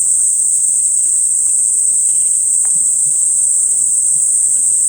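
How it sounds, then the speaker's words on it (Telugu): Crickets and other insects chirp in a steady, unbroken high-pitched drone in green hills and mountains, loud and continuous for the whole stretch with no voices. "ఇక్కడ ఇన్సెక్ట్ సౌండ్స్ వస్తున్నాయి"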